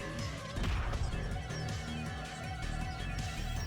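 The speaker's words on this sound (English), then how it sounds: "Then her left arm smashed Kaguri's head to the side." A single punch impact effect from the visual novel Steins;Gate 0 lands as a fairly quiet thud-like crash over a soft, steady music bed.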